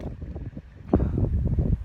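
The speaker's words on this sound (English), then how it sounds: "And it's so windy" Gusty wind buffets the microphone of a cyclist outdoors, a low rumbling roar that swells sharply about halfway through and stays loud to the end.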